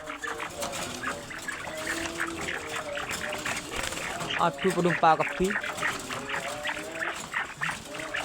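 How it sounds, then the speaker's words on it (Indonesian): Barking quail (puyuh gonggong), a group of nine kept for sale, give short yapping, bark-like calls that bunch together around the middle, over a steady background hum while someone talks. "Dan di sini ada puyuh gonggong bosku, ready 9 ekor puyuh gonggong."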